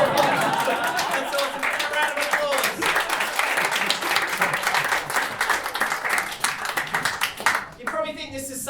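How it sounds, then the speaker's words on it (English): Audience applause at a FRINGE WORLD festival comedy show, a dense, steady wash of clapping and crowd noise that holds loud for most of the stretch before thinning near the end, with voices mixed in. "A round of applause."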